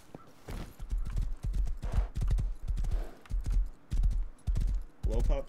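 Steady rhythmic clip-clop of a horse's hooves trotting in a video game, close and fairly loud, with a voice briefly heard near the end.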